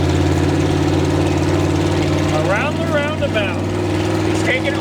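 The engine of a 1977 Jeep CJ5 running while driving through a roundabout, a loud steady low rumble close by with wind noise, while a voice speaks over it.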